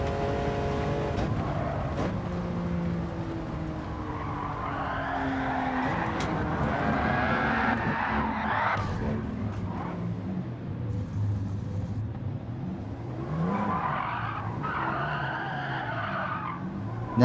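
A Lamborghini in Gran Turismo 7 skids through a lobby race, its tires squealing in long wavering streaks over the droning, shifting engine note, loud and close throughout.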